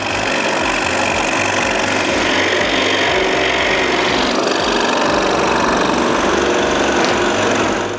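A power saw cuts pieces of wood for an intarsia lighthouse, a loud, continuous buzzing whine with a rapid mechanical chatter that holds steady throughout. No voices.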